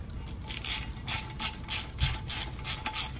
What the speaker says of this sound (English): put the bolt back in there and tighten, snug that up